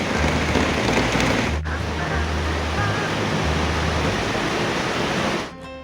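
Heavy rain pours down during a monsoon outing in Ameenpur, a steady dense hiss that holds at the same level for several seconds before cutting off abruptly.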